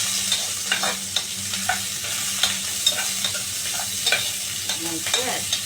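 Onions frying in hot, spitting oil for Filipino adobo: a steady, loud sizzle with small pops and the occasional scrape of stirring, close by and with no talk.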